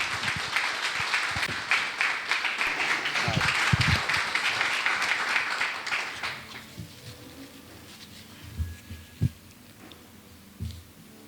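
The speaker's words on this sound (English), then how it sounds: "let's welcome her with the greatest round of applause in this ministry with love" An audience at a graduation ceremony claps to welcome a graduate to the stage, a dense round of applause that fades out after about six seconds, leaving sparse scattered claps and room noise.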